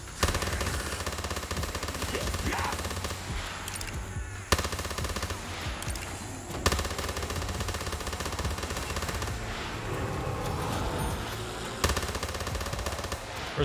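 Video game gunfire in Call of Duty Zombies, dense and continuous rapid automatic shooting over game sounds, with a few sharper bursts punctuating the steady barrage.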